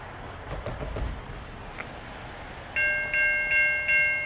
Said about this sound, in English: Sounds like another train's coming from this way.